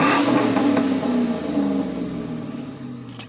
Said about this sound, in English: I'm just going to give it a few revs so you can hear it inside.